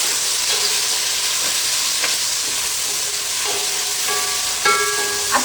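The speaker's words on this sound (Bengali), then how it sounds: "এখন কিন্তু আমি দিয়ে দিব এখানে পেঁয়াজ কুচি। বেশি করে পেঁয়াজ কুচি দিব" Chopped onions fry in oil with a steady, broadband sizzle throughout, with a few faint tonal clinks and scrapes from utensils near the end.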